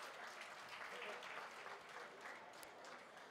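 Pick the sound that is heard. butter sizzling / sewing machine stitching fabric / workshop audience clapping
workshop audience clapping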